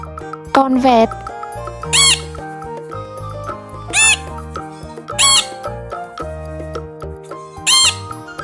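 A parrot squawks loudly in repeated harsh calls, about five spaced bursts over background music.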